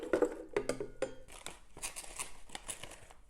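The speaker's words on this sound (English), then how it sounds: "One cup of sliced frozen strawberries going into the blender." Sliced frozen strawberries drop into a blender jar, a quick scatter of soft clunks and rattles at the start, followed by faint rustling and small knocks.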